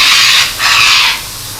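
Lemongrass and galangal sauté in a hot pan, a loud, close hissing sizzle that swells in two bursts before settling to a quieter steady fry.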